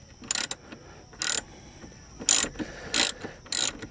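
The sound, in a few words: ratchet tightening nut on vehicle shock bolt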